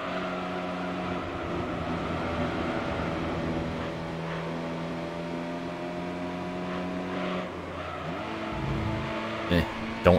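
A lightweight sports car engine in the PS2 racing game Gran Turismo 3: A-Spec, tuned for about thirty extra horsepower, drones with sustained steady tones and shifts in pitch near the end.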